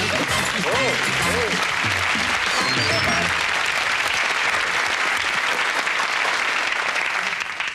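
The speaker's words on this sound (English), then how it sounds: "Stay the applause till you hear the prize." Studio audience at a 1984 TV game show breaks into loud, sustained applause that fills the whole stretch, with a few cheers and a host's voice briefly over it at the start.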